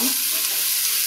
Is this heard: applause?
no